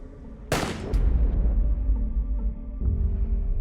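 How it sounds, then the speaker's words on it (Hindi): A rifle gunshot in a movie scene, a sharp loud crack followed by a quick second report, then a low rumbling echo and dramatic score under it. "गोली चला के पीटर ने मेजर का खेल खत्म कर दिया।"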